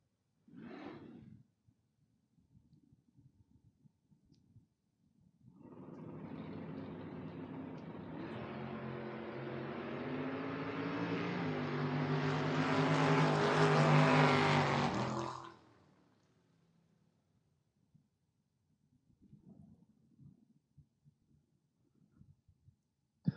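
Drag racing cars, a big Chrysler and a Camaro, roar down the strip in one loud, rising run lasting about ten seconds, with quieter idling and crowd noise before and after.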